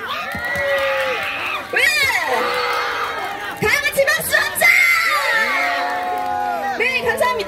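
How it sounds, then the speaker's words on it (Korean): A youth festival busking crowd in Seoul cheers, whoops and shouts with clapping mixed in, loud and lively, with bursts of yelling and a sustained tone near the end. "우리 호응과 박수 소리 한번 듣고 가겠습니다."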